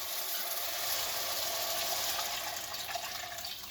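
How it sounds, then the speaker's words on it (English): Vegetable broth pours steadily into a pot of browned onions, a continuous splashing, gurgling rush of liquid that stays loud and even throughout. "we're going to stir in 4 cups of vegetable broth"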